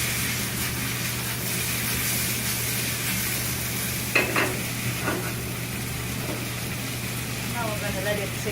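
Freshly made spätzle searing in a hot pan, a steady broadband sizzle running throughout with a few brief louder crackles and stirring clatters midway; faint speech occasionally sits under the frying.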